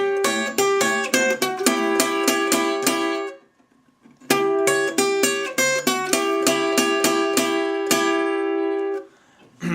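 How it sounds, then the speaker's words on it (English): Fingerpicked acoustic blues guitar working through diminished chords: bright plucked notes in a lilting rhythm, close and clear, a brief pause near the middle, then the phrase repeats and rings out at the end. "he plays a sort of instrumental break where he's kind of finger picking on the diminished chords"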